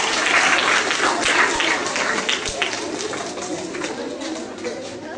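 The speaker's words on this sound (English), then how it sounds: "Big round of applause to all of them." Students and staff at a school winter assembly give a big round of applause, steady and fairly loud clapping that slowly tapers over several seconds.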